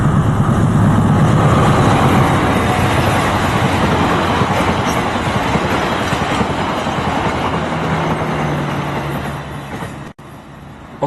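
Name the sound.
passenger train, Argo Wilis executive train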